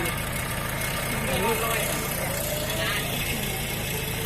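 A walk-behind tractor fitted with a front-mounted rice seed spreader runs at a steady, rumbling idle close by, a continuous low drone with faint rattling throughout.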